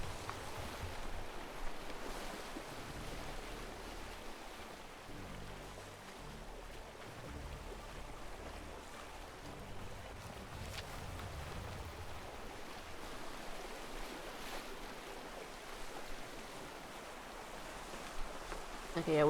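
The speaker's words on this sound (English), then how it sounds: "we always get a lot of ocean come over the boat" Ocean water washing over a boat in the video game ATLAS, heard as a steady, soft rushing wash with a faint swell near the end, under a speaking voice.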